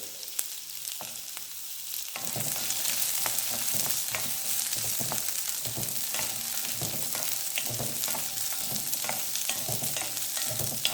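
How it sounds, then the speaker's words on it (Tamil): Onions and minced mutton kheema sizzle and get stirred in a hot pan, a steady frying hiss that grows louder after the first two seconds, with scraping stir strokes running throughout. "அதையும் போட்டு வதக்கிடலாம். நல்லா வதக்கணுங்க."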